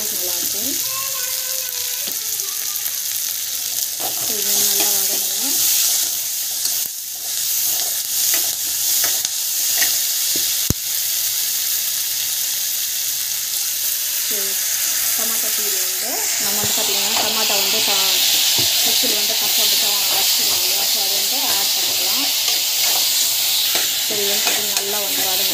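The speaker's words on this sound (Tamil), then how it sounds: "இது நல்லா வதங்கணும்." Onions or vegetables sautéing in a pan with rock salt, a steady loud sizzle and hiss throughout, with intermittent scraping of a spoon stirring close up.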